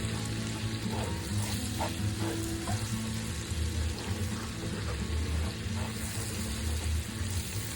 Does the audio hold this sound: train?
no